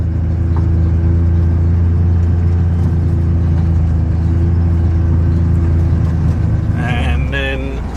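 Farm vehicle in a farming video game driving in a loop around a pile of trees, a steady loud engine drone throughout with a brief higher mechanical whine near the end.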